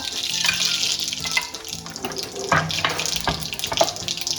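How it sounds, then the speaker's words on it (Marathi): Cumin and mustard seeds dropped into hot oil in a heated kadhai, giving a loud, steady sizzle and crackle with small bursts of popping throughout. "आता कढई गरम झाली, तेल पण तापलंय। आता आपण त्यामध्ये जिरा मोहरी टाकायची 1 चमचा।"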